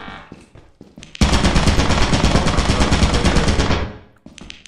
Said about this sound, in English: Oh, there's a turret facing this way right here.